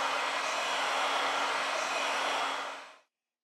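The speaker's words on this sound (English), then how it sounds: "We apply heat to the device to remove the battery cover." A heat blower warms a Redmi 7 phone to soften the battery cover adhesive, a steady close airy whoosh that runs for about three seconds and then shuts off into silence.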